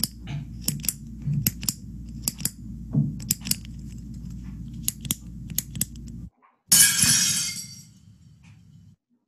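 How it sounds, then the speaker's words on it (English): A plate smashes with a sudden loud crash and bright shattering burst that fades out, following a run of sharp clicking taps over a low hum. "A plate smashing."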